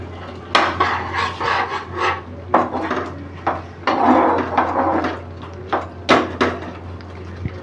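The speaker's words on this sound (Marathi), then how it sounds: "आणि ही कसुरी मेथी आहे ती हातात घ्यायची अशी आणि अशी चुरून टाकवायची" Dried kasuri methi (fenugreek leaves) is crushed by hand in a home kitchen making butter chicken, giving close, crisp crackling rustles in irregular bursts.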